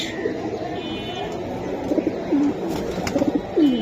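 Silver Giribaz pigeons coo in short, soft, repeated phrases close by, a low gurgling rhythm over steady background noise, with someone talking at times.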